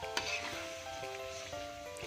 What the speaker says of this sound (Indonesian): Lalu tumis dan aduk hingga merata